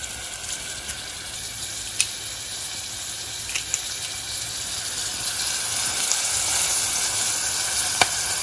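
Chopped onion and garlic sizzle steadily in a pan, a soft continuous frying hiss with occasional faint clicks of stirring, close and alone without talk.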